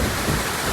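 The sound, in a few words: heavy rain in Mirpur, Dhaka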